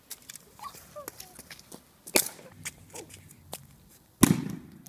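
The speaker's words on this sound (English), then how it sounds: "This was actually an explosion where the cap flew off of the bottle and the bottle didn't really break." A plastic bottle bursts with one sharp, loud outdoor pop after a smaller crack earlier, amid scattered light knocks and faint background noise.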